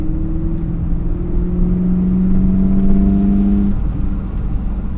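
Manual C4 Corvette accelerating on the road at low RPM, a steady loud engine drone with a rising harmonic whine, close and continuous with no talk.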